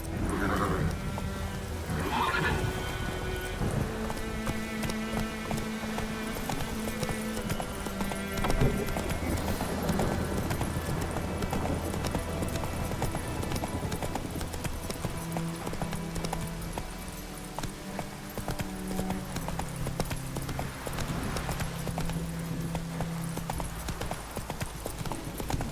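Horse hooves clip-clop rhythmically at a steady gallop in The Witcher 3, continuous and close, with occasional snorts and game music layered underneath.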